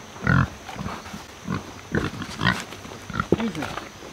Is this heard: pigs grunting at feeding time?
yes